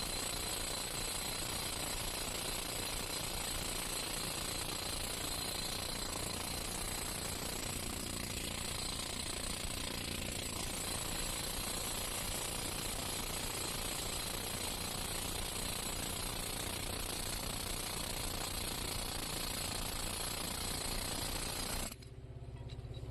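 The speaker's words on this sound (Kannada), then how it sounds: "ಈ ಥರ ಡ್ರಿಲ್ಲಿಂಗ್ ಹೊಡಿಬೇಕಾದ್ರೆ ಕಾಲು ಸೈಡಿಗೆ ಹಿಡ್ಕೊಂಡು ಡ್ರಿಲ್ ಹೊಡಿಬೇಕು" A jackhammer rock drill hammers continuously into stone at a local quarry, a loud, dense, unbroken rattling roar that runs close up for the whole stretch and cuts off abruptly at the end.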